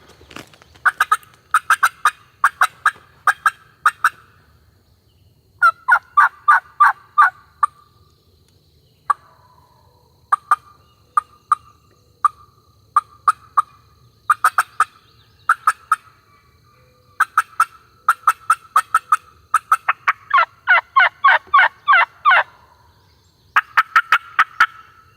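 A wild turkey gobbles repeatedly from a hillside during spring turkey season, loud rattling bursts in quick bunches with short pauses between, carrying clearly through quiet woods with no talk over it.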